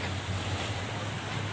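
Sea waves at night at Carmen's Resort in Ilocos Norte give a steady, full rushing roar with low wind rumble across the microphone.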